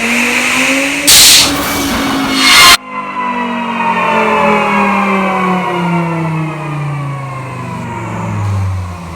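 A 2000HP twin-turbo Dodge Viper V10 on boost with a sequential gearbox revs hard, each gear a rising wail, with a brief loud blast before it pulls away and fades into the distance.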